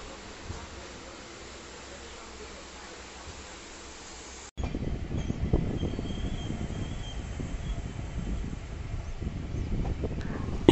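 A passenger train runs on a line in Karnataka near Bidar, with a quiet, muffled rumble that jumps abruptly to a loud, steady rattling roar partway through and holds until the end.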